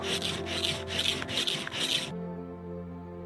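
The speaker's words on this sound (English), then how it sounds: "The cedar tree scraped off. This is nice and dry, and it's gonna make my tinder bundle." Dry cedar wood scraped with a blade to make a tinder bundle, five rhythmic rasping strokes close up, then the scraping stops.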